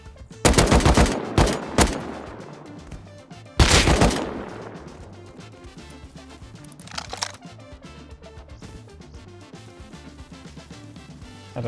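Gunfire from guns in the survival video game Rust: several loud, sharp bursts of close shots in the opening seconds, then a fainter isolated shot, tailing off into quieter game ambience with no talking.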